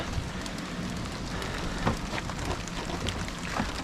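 Rain pattering outside on a surface near a vehicle with a roof rack, a steady dense hiss with a few sharper drop taps, no voices.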